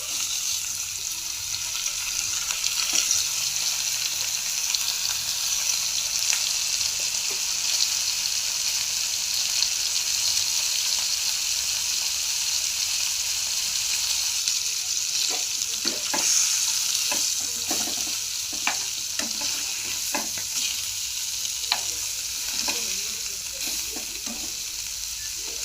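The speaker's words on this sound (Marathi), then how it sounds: "राणी मच्छी फ्राय करायची." Rani fish frying in hot oil on a tawa, a steady loud sizzle throughout, with scattered crackles, stirring and scraping sounds in the latter half.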